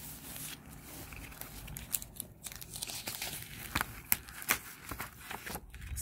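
A crinkly plastic mail folder is opened up close, giving a steady run of soft crackling, crumpling and rustling with irregular small pops, quiet and continuous without speech.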